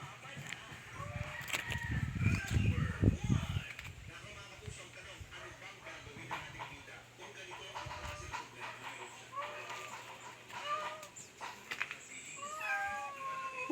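A cat meows repeatedly in a home garden beside its cage, thin wavering cries scattered through the scene, with rustling and a low rumble early on and background voices in the distance.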